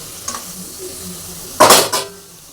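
Okra curry with raw mustard bubbling in a pan, a quiet low simmer broken by two sharp, loud bursts of sizzling spatter near the end.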